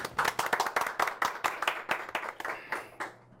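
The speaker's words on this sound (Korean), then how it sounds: "박수 부탁드립니다." Applause at a Korean business talk event as a company CEO is introduced, a small audience clapping in distinct sharp claps that thin out and fade over a few seconds.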